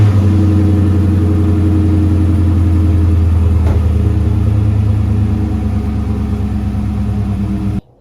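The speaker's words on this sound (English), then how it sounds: "this one has the actual stock exhaust systems, and it still has that nice rumbling hardcore sound" A 1994 Ford Mustang GT with its stock exhaust rumbles steadily and loudly at close range, a deep, even idle throb that continues unbroken for about eight seconds before cutting off abruptly. No one speaks.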